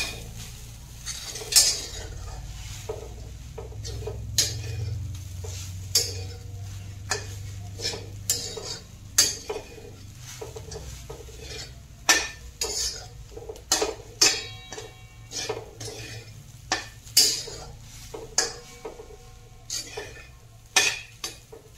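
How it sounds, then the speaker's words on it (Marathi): Grated coconut is dry-roasted in a pan over a low flame, with a spatula repeatedly scraping and clicking against the metal in uneven bursts over a faint background sizzle. "आपण मंद आचेवर थोडंसं हे भाजून घ्यायचे।"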